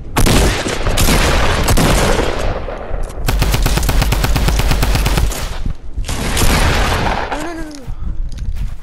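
Rapid automatic gunfire bursts and booms from a shooter video game, dense and loud, with several long sustained strings of shots and a brief pause between volleys.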